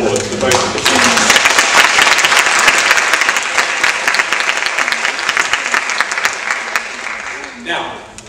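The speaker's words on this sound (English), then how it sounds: "can I have another round of applause for both of the speakers?" Debate audience applauding the speakers in a sustained, loud round of clapping that runs for about seven seconds, then thins out abruptly near the end.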